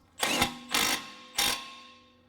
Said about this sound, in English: Now I'm going to use my 1/2-inch gun. This is my small gun.